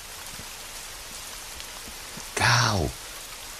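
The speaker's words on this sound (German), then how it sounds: "nur regnet dat all für dull" Steady rain falling during a weather lesson on summer heat and a coming thunderstorm, a constant faint hiss through the whole span, with one short spoken word cutting in near the end.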